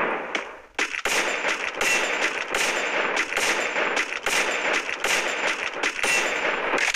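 Rapid gunfire in the mobile shooter Free Fire, with dense bursts of shots and sharp metallic cracks repeating steadily throughout, loud and close with no talking.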